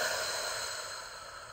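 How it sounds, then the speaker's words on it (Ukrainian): A slow, smooth exhale during a calm breathing exercise, a soft steady breathy hiss lasting the whole moment and easing off gently toward the end, close and quiet with no talking. "повільний, плавний видих для того, щоб не дати можливості емоціям розганяти ще більше"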